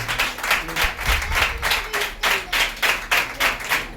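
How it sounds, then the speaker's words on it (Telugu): A church congregation clapping hands together in praise, loud rhythmic claps in a steady beat of about two per second, with faint voices underneath. "చప్పట్లు కొట్టి ప్రభువు నామమున మహిమపరుచుకుందాం"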